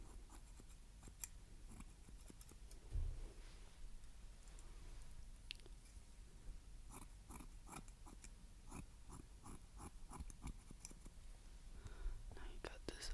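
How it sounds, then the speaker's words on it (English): Scissors snipping hair during an ASMR haircut, a series of quiet, close, crisp clicks and snips scattered irregularly throughout, under soft whispering. "let's just continue to give you a trim as well"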